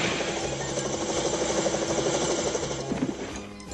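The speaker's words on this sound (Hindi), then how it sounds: "ये तो अच्छा हुआ कि मैं प्रोफेसर कीन बीन के हेलीकॉप्टर हेलमेट साथ ले आया था।" Whirring cartoon helicopter-helmet propellers spin steadily throughout, a continuous close engine-like drone with a faint rhythmic chop and no talk.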